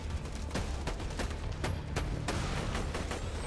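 Baby Maker gun firing in Borderlands 2, a steady series of loud, punchy shots spaced roughly every third of a second over continuous combat noise.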